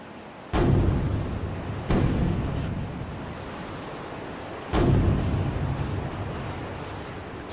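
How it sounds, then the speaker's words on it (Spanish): Three heavy cannon shots boom one after another at uneven intervals, each a sharp loud blast trailing into a long rumbling decay, over a constant windy, surf-like background. "Son 3 cañonazos."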